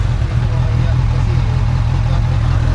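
A motorcycle engine runs nearby with a loud, steady low rumble and even putter, continuous throughout with faint background voices.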